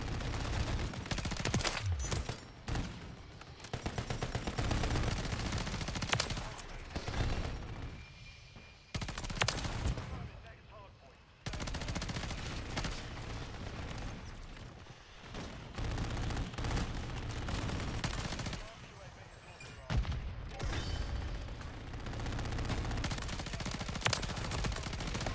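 Bursts of automatic fire from a BP50 rifle in a video game, loud and close, with rapid rattling volleys broken by brief pauses across the stretch.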